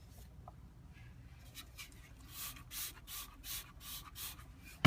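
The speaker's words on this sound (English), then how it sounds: "So altogether, that's been 15 sprays of alcohol." A spray bottle mists alcohol onto a bath bomb mixture in a quick run of about six short, hissing spritzes, close and fairly loud. Faint rubbing and handling noises come before the sprays.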